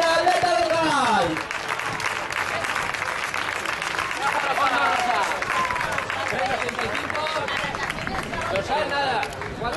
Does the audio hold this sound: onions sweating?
no